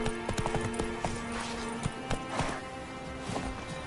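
Roach the horse galloping in The Witcher 3, rapid hollow hoofbeats clopping in an uneven rhythm, close and fairly loud over a low rumble with no talking.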